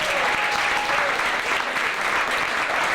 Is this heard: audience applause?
yes